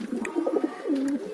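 A pigeon bought for 2500 rupees, kept in a loft: a short, low, rolling coo close by, soft and clear, with no voices.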